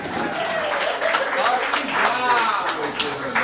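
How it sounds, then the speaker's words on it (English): Audience applause for volunteers at a family-friendly improv comedy show, steady clapping throughout with voices mixed in underneath. "give a round of applause for volunteers!"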